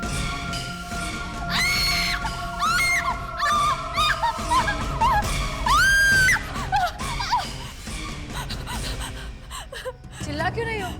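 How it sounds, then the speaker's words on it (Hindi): A woman shrieks and gasps loudly in several sharp, rising cries over a dark, tense music bed during a night-time horror drama scene about discovered human bones. "चिल्ला क्यों रही हो?"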